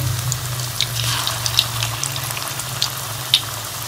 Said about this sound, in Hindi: हम बिल्कुल जो है वो मीडियम आंच पे इसे पकाएंगे, पकौड़ों को फ्राई करेंगे।